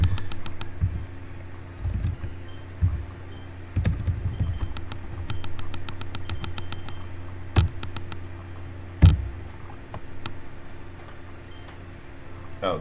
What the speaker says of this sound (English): Oh, the weird clicking sound, that's my keyboard.